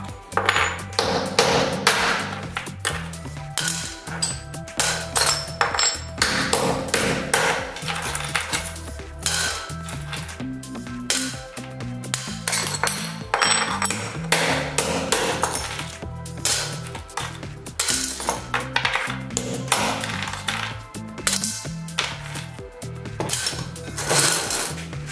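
Hammer blows breaking ceramic computer processors, a steady run of loud, sharp impacts with clinking, glassy fragments scattering between strikes, continuing throughout with no talk.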